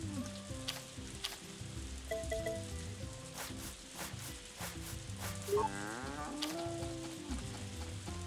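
A cow moos clearly in the farming game Story of Seasons: A Wonderful Life, a drawn-out call rising over soft background music and light rain-like patter.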